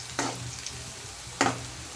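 Aval pakoda being fried and stirred in a pan of oil: two short bursts of stirring and scraping over a low steady sizzle, fairly close and without talk.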